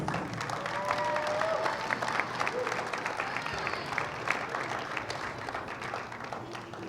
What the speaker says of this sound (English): let's have a round of applause for the guys